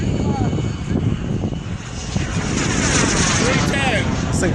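A turbine jet aircraft roars past at a small airshow, a loud continuous engine rumble and whine that swells and fades slightly, with people talking nearby.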